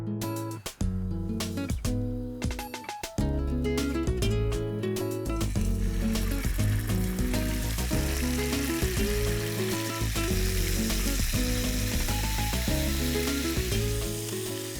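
Lamb neck fillets fry in hot olive oil in a pan, with a loud, continuous sizzle and a few metallic clinks and knocks near the start.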